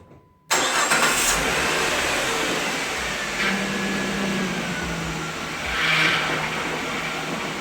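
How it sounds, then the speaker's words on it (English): A 1998-2004 Dodge Intrepid engine starts abruptly after near silence, then settles into a steady loud idle with a broad whooshing hum and slight swells in level, heard close with no voices. "So I'm just going to start it up now."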